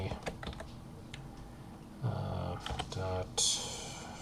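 Clicks of a computer keyboard being typed on, a few quick keystroke bursts in a quiet room, with brief louder clatter near the end.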